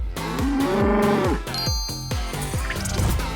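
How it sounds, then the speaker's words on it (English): A cow moos repeatedly in a WowCube farm-animal puzzle game, several loud, drawn-out calls following one another closely, with a faint chiming game tone underneath. "there is a cow"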